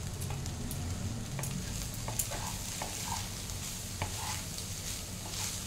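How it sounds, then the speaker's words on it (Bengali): Cooked rice gets stirred and mixed in a pan for mixed fried rice, a soft, steady sizzle under repeated scraping and tapping of the spatula against the pan. "তো আমি ফার্স্টে ভাতটা অ্যাড করে দিলাম, এবার ভালো করে একটা মিক্স করে নেব।"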